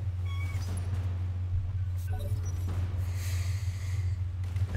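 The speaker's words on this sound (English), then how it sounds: "I have a cat here who very much wants to be on my lap" A pet cat angling to climb onto a lap makes faint snorting and breathy cat noises close by, over a steady low electrical hum.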